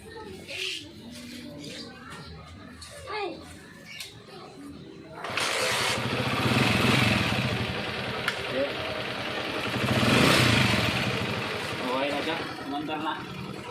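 A flood-submerged motorcycle's engine cranks and catches around midway, then runs with a steady idle and a brief rev, with faint chatter before it starts.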